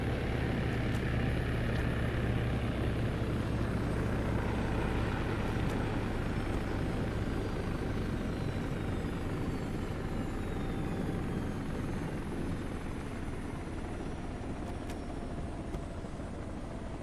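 Military helicopter rotors in a video game, a dense, continuous thudding roar that stays loud and close throughout, with a steady engine whine underneath and no talking.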